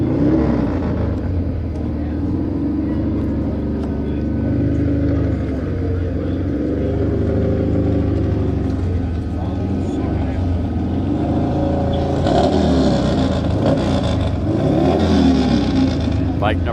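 Motorcycle number 1920 racing at Speedweek, a steady loud engine drone running throughout with a brighter surge of revving near the end.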